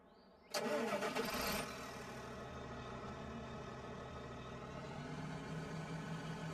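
A small tractor engine in the video game Farming Simulator 15 cranks and catches with a loud burst, then settles into a steady, rumbling idle that continues to the end.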